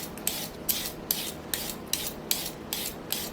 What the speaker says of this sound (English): we're going to start by peeling each carrot